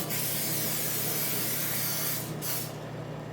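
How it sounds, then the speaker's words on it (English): A continuous cooking oil spray hisses close by for over two seconds, then cuts off, followed by a brief quieter burst and fading room noise. "I'm just gonna use the spray oil"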